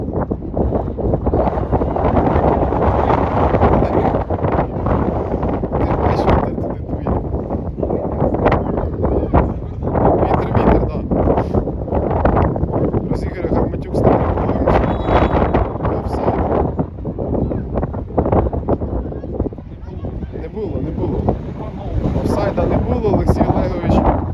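Strong wind buffeting the microphone during an outdoor youth football match, a steady low roar with gusts throughout, partly masking voices in the background.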